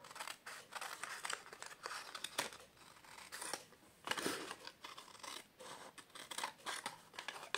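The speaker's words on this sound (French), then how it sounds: "so now what we're going to do is we're going to cut away" Scissors snip repeatedly through paper for a handmade gift bag, with crisp close-up cuts and light paper rustling coming in irregular bursts at low volume.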